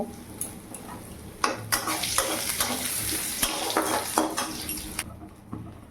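Potatoes with salt, turmeric, cumin and coriander powder fry in a pan for a bean and cauliflower curry, a close sizzle punctuated by repeated clinks and scrapes of a spatula, stopping near the end.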